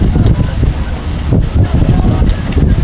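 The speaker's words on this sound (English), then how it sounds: "A very stiff wind, a consistent headwind." Stiff, steady headwind buffeting the microphone during a men's heavyweight collegiate rowing race on open water, a loud continuous low roar with gusty swells throughout.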